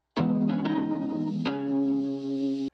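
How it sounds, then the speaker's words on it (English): Heavily distorted guitar tone from an Archetype Tim Henson amp plugin, layered over a beat with sustained harmonic chords, a sharp attack at the start and another strike midway, steady and loud with effects wash. "it gave it a bunch of cool distortion"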